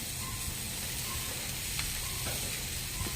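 Egg bhurji sizzling and crackling steadily in a hot pan, a continuous broadband fry hiss with light clinks from stirring, close and moderately quiet with no talking.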